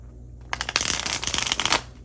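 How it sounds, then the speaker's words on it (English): Tarot cards are shuffled nearby after a quiet moment: a quick burst of crisp riffling and slapping card sounds that lasts over a second, with no voice. "All right, so I'm just gonna shuffle."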